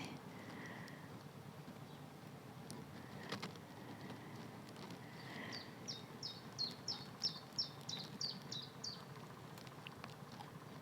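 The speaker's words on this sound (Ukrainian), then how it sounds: "пташки співають" Faint, quick bird chirps repeat in a short run over a quiet rural garden background in spring, with a plum orchard in bloom.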